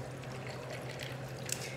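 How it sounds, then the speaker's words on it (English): Water pours into a cocktail shaker over ice as a plain mixer stand-in, a soft, steady trickle lasting under two seconds with a faint hum underneath and no voices. "Then we're gonna put in a liquid."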